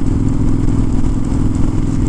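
A motorcycle rides along during a test of KEMIMOTO winter waterproof gloves, its engine a loud, steady, close drone mixed with road and wind noise.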